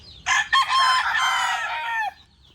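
A white chicken lets out a single loud rooster crow, opening with two short bursts and then a long drawn-out call that fades at the end, heard up close and alone.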